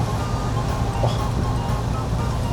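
A 13-year-old used camper van on a highway is passed by a truck in gusty wind above 10 m/s with sideways rain. A loud, steady roar of road and wind fills the cab with no talk.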